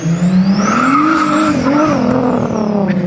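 A VQ-engined single-turbo Mazda Miata accelerates hard close by, its loud engine note climbing steadily with a high turbo whine and tire squeal over the roar.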